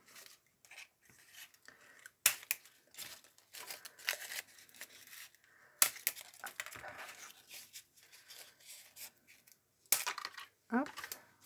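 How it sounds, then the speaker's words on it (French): Old scissors snip and crackle through tape in a series of irregular sharp cuts and rustles, close up and fairly quiet, with short pauses between bursts. "J'ai pris mon vieux ciseau"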